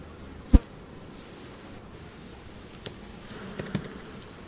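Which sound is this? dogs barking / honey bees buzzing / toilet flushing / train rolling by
honey bees buzzing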